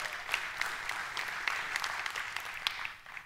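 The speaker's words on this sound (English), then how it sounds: "Yeah, you can clap for that" A church congregation claps together, a dense, steady wash of applause sustained for a few seconds at moderate loudness, with scattered sharper claps standing out and no talking over it.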